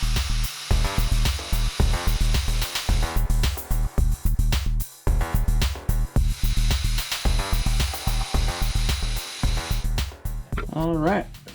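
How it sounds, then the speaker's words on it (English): Grinder working a metal bracket on a Toro TimeCutter SS4200 zero turn mower, loud and close in rapid choppy bursts of whine with brief gaps, ending on a rising whir. "I need to grind deeper."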